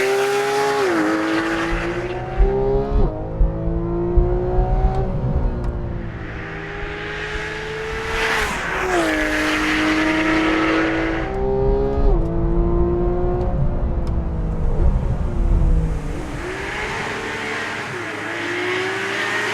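A 2013 Porsche 911 GT3 engine revs hard and loud, rising and falling through gear changes with occasional tire squeal, close and continuous.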